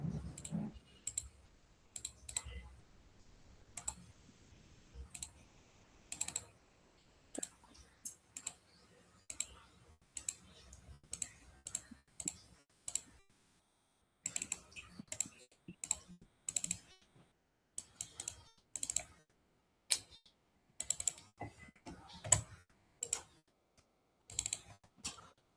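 Someone types on a computer keyboard during an online session, scattered bursts of close clicking keystrokes with pauses between, faint and otherwise quiet.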